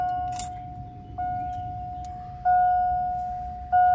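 Keys for a 1981 Lincoln Town Car jingle briefly near the start, followed by a steady electronic chime that repeats several times and grows louder toward the end.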